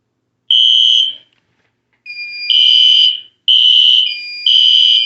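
System Sensor SpectrAlert Classic fire alarm horns blare loud and close during a drill, sounding in long buzzing bursts separated by short gaps, with a second horn slightly out of step.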